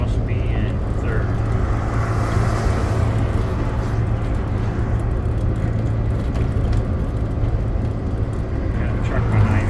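A car engine drones steadily under strain, climbing a hill in third gear on a road from Houghton toward Copper Harbor, Michigan, heard from inside the cabin as a continuous low hum with road noise.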